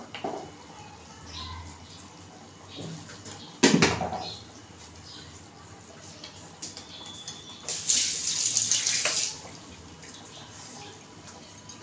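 Hot water from a pressure cooker is poured into a cooking pot of dal palak in a home kitchen, making a sharp splash near the middle and a longer gushing pour toward the end over quiet kitchen background.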